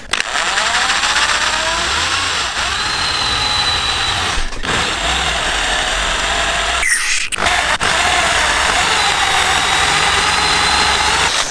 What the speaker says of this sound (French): Bon finalement de percer cette vis là ça va prendre 1000 ans parce que c'est dur une vis